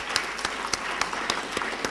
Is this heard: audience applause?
yes